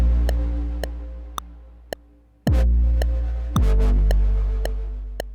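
An 808 bass layered with a Massive X synth: a steady clicking tick pulse runs throughout, and two deep booming bass notes come in partway, carrying a brighter synth shimmer on top.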